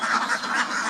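A flock of Campbell ducks on a duck farm quacks in a dense, continuous chorus, loud and close, with overlapping nasal calls filling the whole moment.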